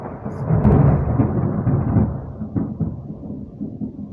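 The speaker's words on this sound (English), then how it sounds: "Ooh, that lightning." A heavy roll of thunder in a thunderstorm rumbles loud and deep, swelling quickly and then fading slowly over a few seconds with faint rain beneath and no talking.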